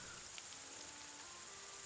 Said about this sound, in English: Come on, Nancy, let's go back outside again into the rain.